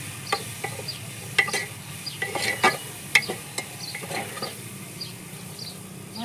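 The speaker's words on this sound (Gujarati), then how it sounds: "સરસ હળદર નાખીને પણ આપણે આમ સરસ મિક્સ કરી નાખીશું" Sweet potato pieces mixed with turmeric are stirred in a pan for a Gujarati shaak, producing faint, scattered scrapes and soft clicks of a spoon against the pan over a quiet, steady background hum.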